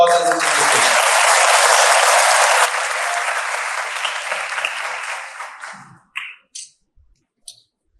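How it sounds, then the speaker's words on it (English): Audience applause at a school Independence Day event as students take the stage, loud and dense for a few seconds, then thinning out and ending in a few scattered claps. "Please give them a round of applause as they take the stage"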